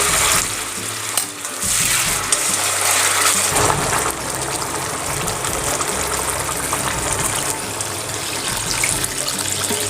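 Hot water poured into a pan of fried potatoes and greens, setting off a loud, steady sizzle and bubbling boil that fills the whole stretch without pause.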